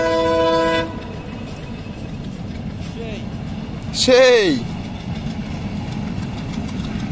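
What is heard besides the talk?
small train passing by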